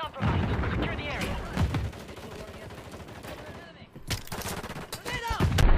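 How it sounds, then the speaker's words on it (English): Bursts of rapid gunfire from a first-person shooter video game, dense and loud with explosive booms, continuing throughout while someone talks over the action. "It would help if at least like a third of my bullets would hit the enemy."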